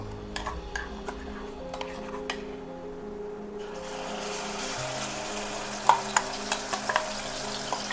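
Onion paste dropping into hot oil in a kadai, quiet utensil clinks first, then a louder steady sizzle building up, with sharp metal taps from stirring near the end.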